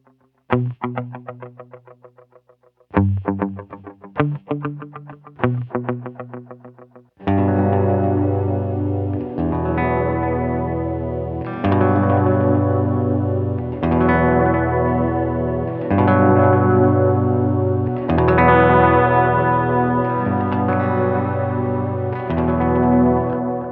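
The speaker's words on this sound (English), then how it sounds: "So here is 2 and 3 together, and that's an 8th dotted with a quarter note." An electric guitar plays through a UAFX Galaxy '74 tape echo pedal set to dotted eighth and quarter note repeats: a few sparse plucked notes, then sustained ringing chords trailing rhythmic, overlapping echoes.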